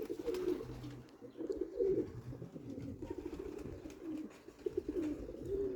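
Pigeons coo softly in repeated low, throaty phrases, with faint outdoor background noise and occasional small knocks.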